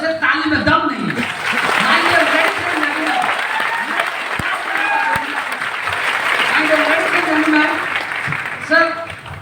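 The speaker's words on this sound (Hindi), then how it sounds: "सर आप ताली दे रहे हो जैसे ताली में दम नहीं है" An audience at a training seminar claps in sustained, dense applause lasting several seconds, loud and near, easing slightly midway before swelling again with a brief voice at the end.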